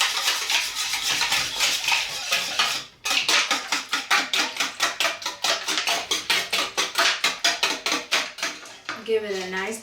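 A utensil whisks a seasoned batter wash with ice and water in a bowl for zucchini fries, giving rapid, even clinks and scrapes close by that stop briefly and then continue, with a voice at the end.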